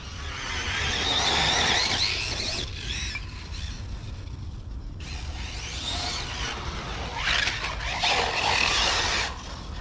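An Arrma Typhon 6S RC car driving and rolling on grass, a loud continuous whining motor that rises and falls with bursts of scraping and rustling, heard from close by with no voices.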